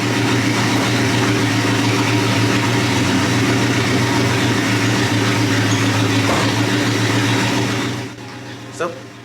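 A 1971 Dodge Charger that had been sitting runs at a steady loud idle after its first start, a constant low rumble that fades near the end as a voice briefly begins.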